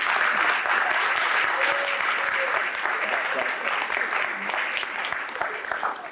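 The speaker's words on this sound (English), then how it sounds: "Let's give them all a real big collective round of applause." A crowd applauds at a police community relations awards ceremony, sustained and even clapping with a voice heard over it near the start.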